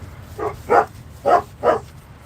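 Dogs bark indoors in a quick run of four sharp, fairly close barks, unevenly spaced, with no talking over them.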